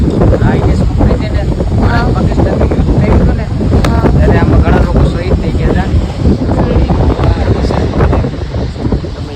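Strong wind in Diu, India, buffeting the microphone in a loud, continuous roar, with faint voices buried underneath.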